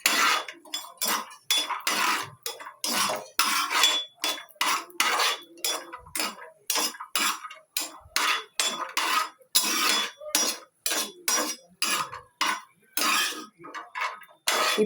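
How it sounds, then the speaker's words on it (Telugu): Cashews frying in ghee are stirred in a metal pan, giving a close, rhythmic run of scraping and clinking strokes that repeat steadily, with no talking. "చక్కగా నెయ్యిలో కొంచెం రంగు మారేదాకా ఫ్రై చేసుకుందాం."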